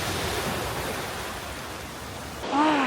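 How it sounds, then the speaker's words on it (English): Rough ocean surf rushes and hisses in a continuous, dense wash of waves at a snorkeling spot, with a brief higher-pitched sound briefly rising at the very end. "ocean waves. Can you hear it?"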